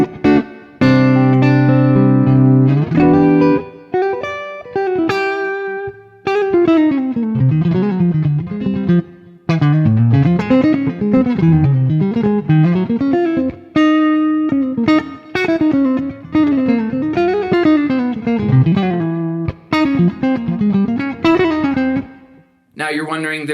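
An electric guitar runs through a Lekato Cube Baby multi-effect pedal with distortion, modulation and reverb, playing loud sustained chords and then a busy, wavering lead line that rings out continuously and ends abruptly.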